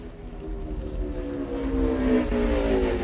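A race car runs a qualifying lap at the 2003 Trimspa Dream Body 250, its engine a loud, droning roar that climbs in pitch as it accelerates, heard steadily without commentary.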